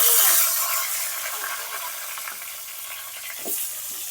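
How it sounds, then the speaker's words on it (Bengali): Silver carp fish head frying in hot oil, a loud steady sizzle with crackling spatter and occasional stirring scrapes, no talking. "এখন মাছের মাথাটা ভেজে নেব।"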